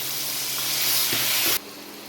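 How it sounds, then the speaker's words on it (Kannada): Green peas fry in a pan for brinjal upma, giving a brief, close sizzling hiss that swells slightly and then cuts off abruptly near the end. "ಬಟಾಣಿನ ಹಾಕ್ಕೊಂಡು ಫ್ರೈ ಮಾಡ್ಕೋಬೇಕು."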